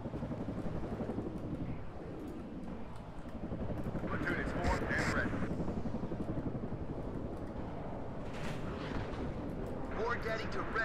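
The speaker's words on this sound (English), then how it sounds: "how many helicopters do you have over here?" Helicopters and artillery fire in the real-time strategy video game WARNO, a steady rumble of distant blasts and rotor noise that runs the whole clip and swells in bursts, mixed with faint game chatter.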